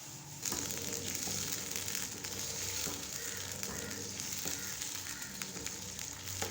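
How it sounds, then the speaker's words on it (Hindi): Jaggery cooking and melting in hot ghee for dry fruit chikki, a steady close sizzle and frying crackle that starts abruptly and continues evenly throughout, with occasional stirring scrapes and no talking. "घी गरम हो चुका है। अब हम इसमें डालेंगे हाफ कप गुड़ और इसको पकाएंगे।"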